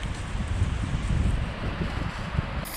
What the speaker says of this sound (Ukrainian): Такий вітер потужний.